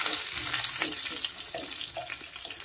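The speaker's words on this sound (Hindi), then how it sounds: "तो इसमें हम लोग कटी हुई हरी मिर्च डालेंगे, और ये हमारा फौरन हो चुका है।" Chopped green chilies frying in hot oil with tempering spices: a steady bright sizzle and crackle, close and fairly quiet, with a few soft stirring scrapes.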